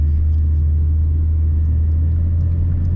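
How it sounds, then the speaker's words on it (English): A Ford Mustang coupe's engine hums in a deep, steady rumble from inside the cabin while driving in Germany, loud and unchanging with no talking. "I like how the Mustang turns easily."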